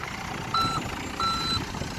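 A road sweeper truck at a British Drift Championship round reverses, giving two evenly spaced electronic beeps that sound fairly faint over a low engine rumble.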